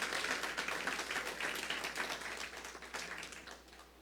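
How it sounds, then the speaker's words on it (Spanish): A church congregation claps for the Lord during a service, with dense, steady applause throughout that tapers slightly toward the end. "Dale ese aplauso al Señor."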